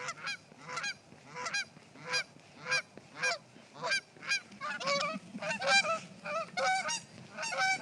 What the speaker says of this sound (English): that is a Canada goose recording I took at Meadowlark Prairie